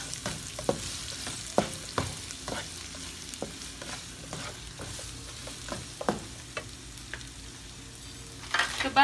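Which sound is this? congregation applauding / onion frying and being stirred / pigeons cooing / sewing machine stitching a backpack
onion frying and being stirred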